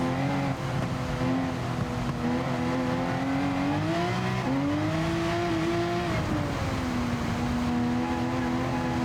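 Race car engine in Gran Turismo Sport holds a steady loud drone, its pitch climbing, dropping at a gear change around the middle, then rising again before easing off, with no talking.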